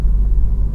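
A manual-transmission car's engine gives a brief, loud, low rumble as the accelerator is pressed, heard from close by with no voices.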